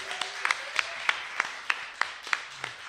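Audience clapping for musicians after a live album performance at a community radio station, a sparse, fairly quiet patter of claps with a few sharper individual hits standing out.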